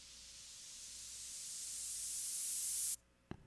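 A white-noise build-up effect from the Massive synth swells from quiet to loud over about three seconds, a rising airy hiss that cuts off abruptly, followed by a single short thump.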